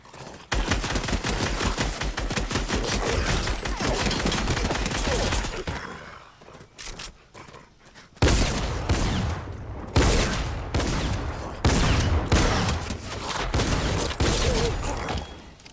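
Incoming gunfire in Fortnite rattles in a long, rapid automatic stream, pauses briefly, then returns as loud repeated bursts of shots.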